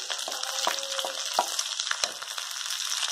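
Okra with turmeric and browned onion roasting in a pan, a steady close sizzle broken by scraping spatula strokes and light clicks, with no talk.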